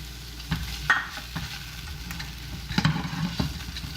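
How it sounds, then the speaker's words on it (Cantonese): Twenty grams of chopped green onions stir-fried in a tablespoon of hot oil in a wok to make scallion oil: a steady hiss of sizzling broken by sharp spatula scrapes and knocks against the pan, with no voices. "個油熱咧就倒20g 葱粒落去"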